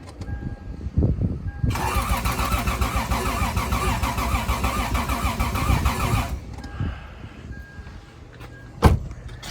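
A car engine, fitted with new fuel injectors, cranks over with a rapid, steady starter whir for about five seconds, then stops without catching, followed by a quieter pause and a single sharp knock.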